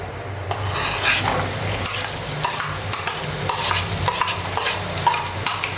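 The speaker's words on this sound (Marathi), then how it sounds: "थोडंसं हलवूया आणि आता आपल्याला आपला कांदा घालायचा आहे" Chopped onion goes into hot oil with whole spices such as cumin for egg kheema, frying steadily with a constant sizzle while a spoon scrapes and stirs against the pan throughout.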